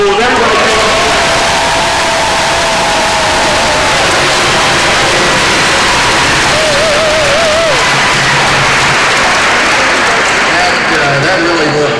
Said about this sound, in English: Everyone, please give a round of applause for all of the schools.